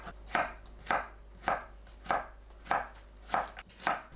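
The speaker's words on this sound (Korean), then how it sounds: "오이 양끝을 자릅니다. 채 썰어주세요." A knife julienning cucumber on a cutting board gives seven evenly spaced, crisp chops in a steady rhythm, close and clear with no talk.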